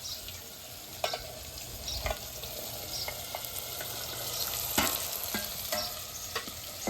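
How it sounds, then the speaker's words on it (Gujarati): Chopped potatoes and cluster beans tumble into a hot pan for a Kathiyawadi guvar curry, setting off a steady close sizzle broken by several sharp clinks and scrapes of stirring. "તો આપણે બટેટા અને ગોવાનું કટિંગ છે તે નાખી દઈશું"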